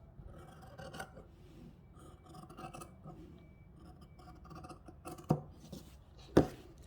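Scissors cutting through fabric on a tabletop in short snips, soft rasping crunches with a couple of sharper, louder cuts toward the end; no voices.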